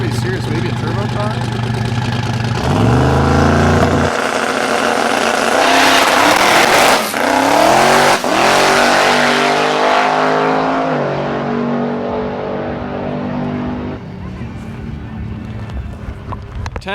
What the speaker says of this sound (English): Got a Maloo Ute up here. Sounds pretty serious. Maybe a turbo car?